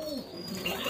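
A domestic pigeon coos softly at close range, a short low murmuring call lasting about a second.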